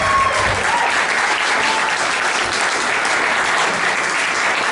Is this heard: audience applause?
yes